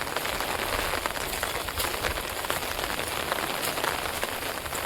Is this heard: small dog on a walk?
no